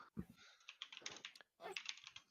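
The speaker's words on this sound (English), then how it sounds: "It's almost like a sound effect keyboard." Quick clicks from a computer keyboard come in two close bursts with a short pause between them, crisp and near, and there is no talk over the typing.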